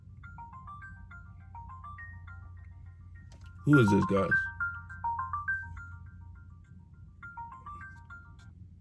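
A phone rings with an incoming call, playing a repeating tinkly electronic melody of short stepped tones throughout; a person speaks briefly over it partway through, then the melody continues alone.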